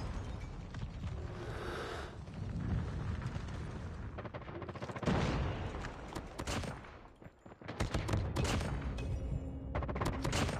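SKS rifle fire in Call of Duty multiplayer, with bursts of sharp cracks and rattling volleys coming in uneven clusters amid other battle noise, moderately close.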